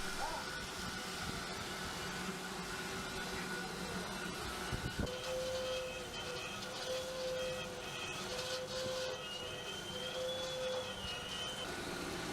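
A horizontal bandsaw built for metal pipes up to 1.0 meter in diameter cuts a large pipe, giving a loud, steady industrial drone with a thump near the middle and a thin sustained whine in the second half.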